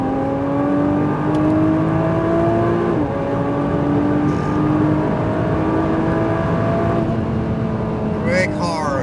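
A Nissan GT-R's engine on an autocross course accelerating through the gears, a loud close droning whine that climbs in pitch, drops at each shift and climbs again, with a voice speaking over it near the end.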